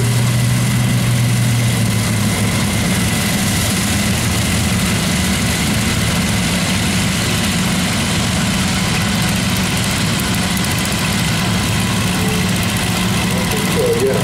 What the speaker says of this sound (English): Looks like we've got a few lawn mowers here.